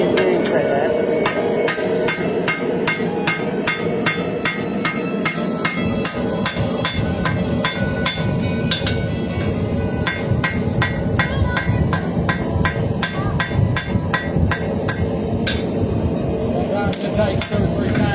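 Rapid, ringing hammer blows strike metal in a steady rhythm while forging a knife bolster, over a loud background roar, with occasional voices underneath.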